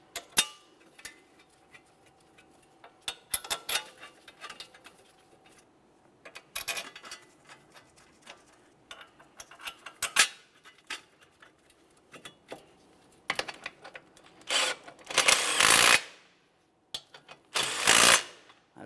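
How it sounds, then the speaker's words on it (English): Wheel hub mounting bolts being run in by hand on a 2014-2018 Mazda 3 front hub: scattered metallic ticks and clicks of a ratchet, with two louder bursts of rapid clatter near the end, no talk. "We'll start in all the mounting bolts, bottom them out"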